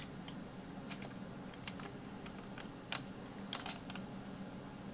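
The arrow keys of a computer keyboard are tapped to move around a 3ds Max 2018 viewport, producing scattered soft clicks, single and in quick pairs, at an irregular pace over a quiet room.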